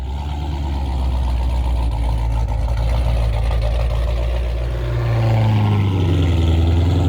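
Supercharged 2015 Dodge Challenger with a 426 stroker engine and CNC ported heads running on a dyno, a loud steady low rumble and whine that rises and swells near the end as it revs.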